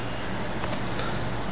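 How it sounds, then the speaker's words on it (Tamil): Keyboard typing while entering text in Filmora 13 video editing software, a few soft keystrokes clustered near the middle over a steady background hiss, with no talking. "லோவர் தேர்ட்னு டைப் பண்ணுறேன்."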